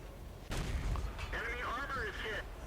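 A tank cannon shot in World of Tanks lands as a single heavy boom about half a second in, followed by rumbling game noise and chattering warning tones.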